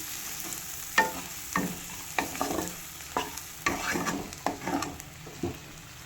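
A spatula stirs a prawn malaikari with turmeric and salt in a pan, giving repeated scraping strokes at a steady rhythm over a soft background sizzle, heard up close.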